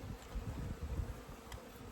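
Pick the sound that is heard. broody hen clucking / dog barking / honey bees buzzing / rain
honey bees buzzing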